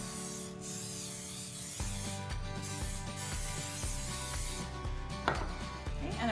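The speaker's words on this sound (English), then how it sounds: "I'm gonna spray 2 loaf pans with some nonstick cooking spray" Short hissing bursts of nonstick cooking spray coating two loaf pans in a home kitchen, a few spritzes close up over a faint background hum, with no one talking.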